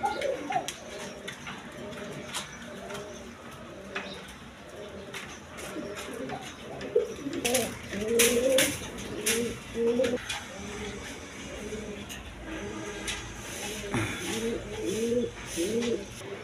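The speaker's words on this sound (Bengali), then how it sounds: "এই যে কোকাটা ডাকতেছে, দেখেন খুব টাকা ডাকতেছে" Caged pigeons offered for sale with eggs and chicks coo repeatedly in throaty, rolling phrases, sometimes several birds at once, against a busy background with faint voices and occasional clip-clop sounds.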